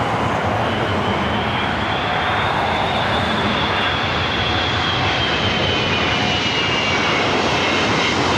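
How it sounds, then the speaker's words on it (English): An Emirates jet arriving at LAX from Dubai roars steadily overhead, a loud continuous engine rush with a faint high whine drifting across it and no voices. "Emirates Flight 215. Coming up from Dubai, next arrival,"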